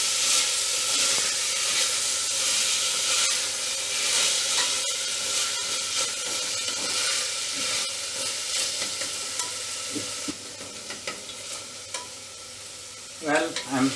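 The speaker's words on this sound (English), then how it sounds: "I am going to add the cut tomatoes. I have taken one big tomato only. Again, I am going to fry it for a while." One big chopped tomato fries in a pan for a quinoa, lentil and brown rice pulao. A loud, continuous sizzle is stirred with frequent scraping, then eases to a quieter crackle toward the end.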